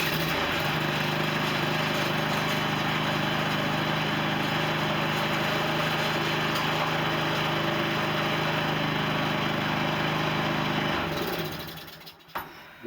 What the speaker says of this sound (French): c'est un tracteur qui marche nickel